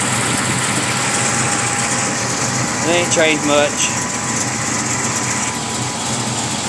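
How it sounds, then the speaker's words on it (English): A hot-cammed LT4 V8 idles steadily in an 1982 Chevrolet El Camino, a continuous engine drone with a brief spoken remark partway through. "There's the engine."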